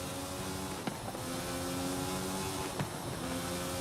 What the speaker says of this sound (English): where you can hear everything slap off of the canyon walls